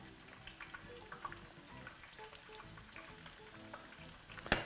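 Tofu fries in a pan, a quiet, steady sizzle with scattered crackles and soft stirring sounds, ending in a short sharp clatter.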